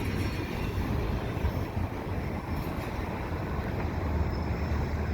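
CP mixed intermodal freight train passing close at Marshall Avenue: steady broadband rumble and rolling rail noise throughout, with wind buffeting the microphone and no talk.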